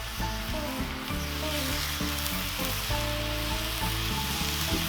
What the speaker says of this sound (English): We're gonna get some bacon on here. Some hickory smoked bacon.